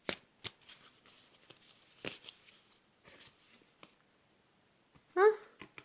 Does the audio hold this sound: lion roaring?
no